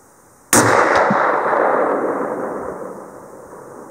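A single sharp, loud rifle report from a Yukon Bison rifle loaded with Varget powder at an outdoor shoot, fired close by, then a long fading rumble.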